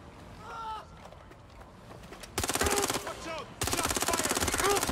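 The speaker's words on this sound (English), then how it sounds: "Shot fired." Rapid bursts of gunfire from the video game Watch Dogs: Legion, two loud sustained volleys of repeated shots in the second half, each lasting over a second, after a quieter stretch with faint voices.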